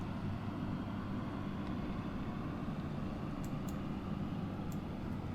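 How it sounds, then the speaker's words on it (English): A ferry engine runs in the game The Ferry, a steady low rumbling drone at an even level throughout, with faint, high clicks now and then. "I'll listen to her engine purr."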